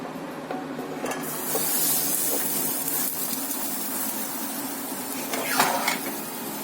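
Meat-filled pancakes dipped in batter are laid into a frying pan, with a soft steady sizzle under clinks and scrapes of a fork against the pan, close by and without speech.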